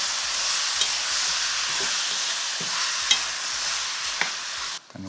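Seasoned rabbit pieces tossed in a hot pot, sizzling steadily with a broad crackling hiss and a few soft clanks from the toss; no voices.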